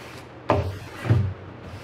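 A sanding block rubs over a countertop finish in two short, soft strokes about half a second apart, close and alone without talk.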